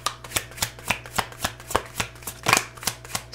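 Tarot cards shuffled by hand in a steady run of crisp riffling snaps, roughly three per second, close and clear with one louder flurry near the end and no voices.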